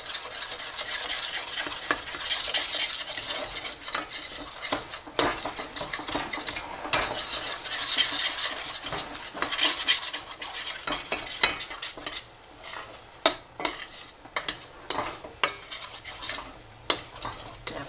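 A flour roux for a cheese sauce being stirred in a pan with a metal utensil, giving continuous close scraping and clinking strokes against the pan over a faint sizzle, growing sparser toward the end.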